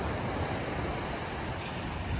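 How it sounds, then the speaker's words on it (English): Small waves wash gently on calm ocean water, a continuous soft surf hiss mixed with light wind noise and no voices. "calm water, nice little waves there coming through"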